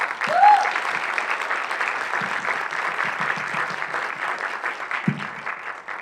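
Audience applause at a Mexican film panel on ableism, sustained broadband clapping across the full six seconds at steady moderate loudness, with a brief vocal whoop near the start and faint voices mixed in.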